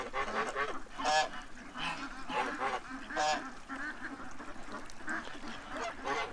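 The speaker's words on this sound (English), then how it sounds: "These two geese don't want me talking." Two geese honk loudly and repeatedly in near, overlapping bursts, their harsh calls rising and falling with no talk over them.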